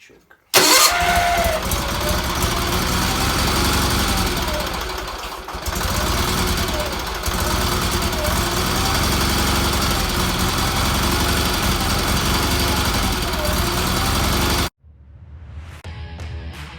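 A motor on a Red Roper project fires after a choke start and roars loudly and steadily for about fourteen seconds, then cuts off abruptly, leaving quieter shop sounds.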